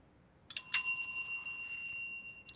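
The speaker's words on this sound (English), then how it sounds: "that was the double bell" A bell is struck twice in quick succession to signal the end of a shift during a tabletop gaming podcast charity stream, the two bright metallic rings then sustaining and slowly fading in an otherwise quiet room.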